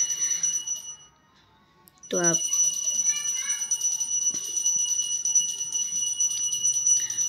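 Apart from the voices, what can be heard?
bell ringing for evening lamp-lighting prayer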